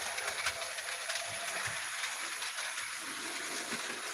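A Bachmann Spectrum model steam locomotive runs around its track. It makes a steady, close mechanical whir with faint clicking from the wheels, and no break throughout.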